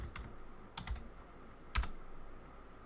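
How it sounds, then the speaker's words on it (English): Faint computer keyboard typing, a few quick clusters of key clicks separated by pauses, close but soft against a quiet background. "Let me type in Intel."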